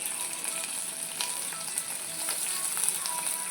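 Onions fry briefly in hot oil for a Bengali bhola fish tel jhal, a steady close sizzle with faint crackles and light stirring scrapes.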